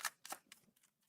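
A deck of tarot cards is shuffled in a few quick, close riffle bursts, each fading into quiet, with no talk.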